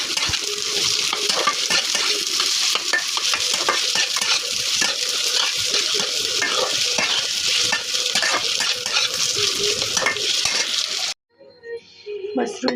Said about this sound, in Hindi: आलू को हम पका लेंगे थोड़ी देर के लिए